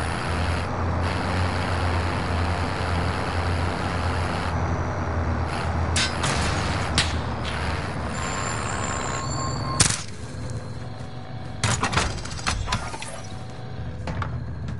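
A vehicle driven in the video game Warzone rumbles with a steady mechanical drone, joined by clanks, ratcheting and bursts of brake-like hiss, with louder knocks toward the end.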